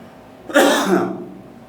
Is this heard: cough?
yes